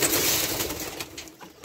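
Homing pigeons in a loft give soft, throaty coos close by, a brief burst of low murmuring calls against faint background rustle.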